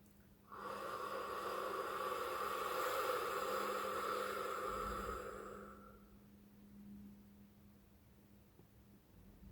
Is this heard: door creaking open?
no